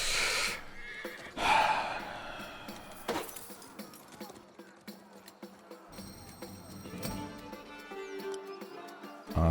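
Horse whinny inside the medieval strategy game Legends of the Round Table, a short loud neigh near the start followed by snorts and scattered battle sounds, with game music and effects layered through the rest.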